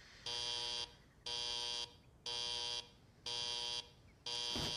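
An alarm clock rings in loud, evenly spaced electronic buzzing bursts, five long beeps each about half a second long with short gaps between, alone with no voices.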